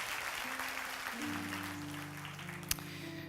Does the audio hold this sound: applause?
yes